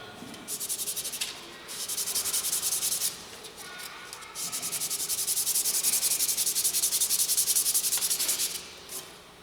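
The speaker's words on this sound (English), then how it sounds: "going to start with some 220 and just hand sand this paddle" 220-grit sandpaper is rubbed by hand along a wooden paddle in long back-and-forth strokes, a close, hissing scratch that swells and fades with each pass, with brief pauses between runs.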